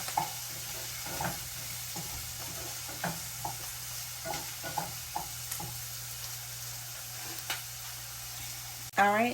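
Onions and green peppers sauté in a pan, with a steady sizzle and occasional utensil scrapes and stirring taps. A louder clatter comes at the very end.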